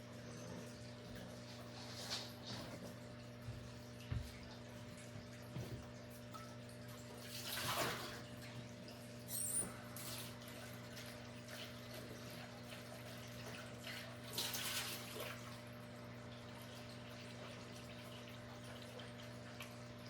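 Tap water runs into a sink while a paint brush is rinsed after rock painting, a faint continuous flow with a few louder surges of splashing water and no speech.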